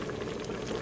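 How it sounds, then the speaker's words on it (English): A soupy stuffed-mushroom stuffing mixture bubbles in a pan as it cooks, giving a steady, close, low simmering burble that continues evenly throughout with no voices. "It's like a lot of liquid there and it's bubbling."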